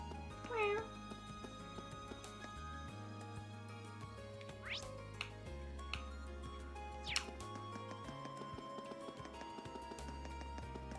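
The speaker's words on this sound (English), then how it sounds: "No, that's just the cat." A cat in the Trails of Cold Steel video game gives a single short meow near the start, then background music, footsteps and other game sounds carry on.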